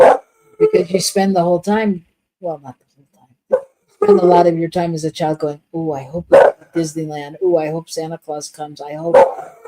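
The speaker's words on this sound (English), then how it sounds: "Our dog apparently would like to do a sermon on hope, if you can hear them barking in the background." A dog barks in the background of a room while someone speaks steadily over it, with intermittent short yaps breaking through the talk.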